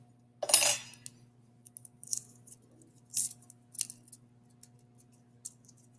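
Scissors snip paper filler away from the end of an electrical cable during a wiring job: one louder cut followed by several quick, quiet metallic snips with pauses between, close and alone.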